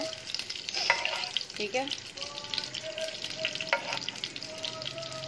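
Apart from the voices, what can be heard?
frying and stirring in ghee in a pan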